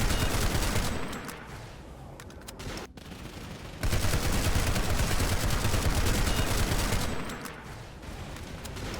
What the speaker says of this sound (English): This is the maximum rate of fire.